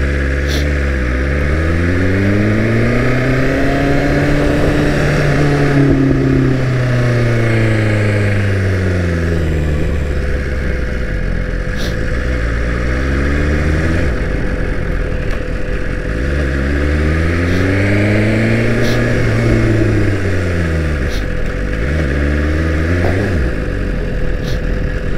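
A BMW S1000 RR sport motorcycle engine drones loudly throughout, its pitch rising and falling in long sweeps as the rider accelerates and eases off, with no talking.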